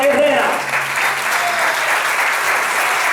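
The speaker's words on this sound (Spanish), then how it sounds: "Por favor, un aplauso al ministro Eduardo Herrera." Applause from a church congregation at a special Israel worship service, loud sustained clapping that fills the space from start to finish, with voices mixed in.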